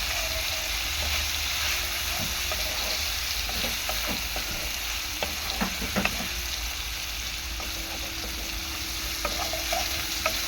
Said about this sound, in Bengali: আদা রসুন পেস্টটা দিয়ে পেঁয়াজের মধ্যে একটুখানি নাড়াচাড়া করে নেব